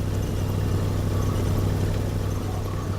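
Steady, loud rumble of a car engine in a video game, a constant low drone with no variation or pauses.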